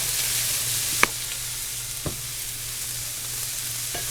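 Beef and vegetable stir fry hissing steadily in a hot pan, a constant close sizzle broken by two or three soft utensil knocks while it is stirred, with no voices.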